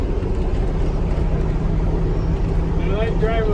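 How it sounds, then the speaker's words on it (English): Vintage GM PD4104 bus engine heard from inside while driving with the window open, a steady low drone holding throughout, with a voice speaking over it near the end. "I like driving with the window open so I can hear the engine."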